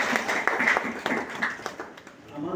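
An audience at a literary award ceremony claps for an award recipient, loose and uneven at first, then thinning out and fading toward the end.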